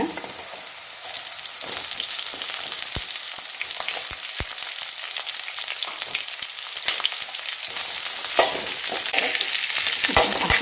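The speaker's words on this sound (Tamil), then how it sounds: "மிளகாய் நல்லா வதங்கட்டுங்க" Green chillies sauté in a pan with ginger, garlic and lentils, a loud continuous sizzle broken by occasional sharp clicks of a spoon stirring against the pan, close and steady with no talking.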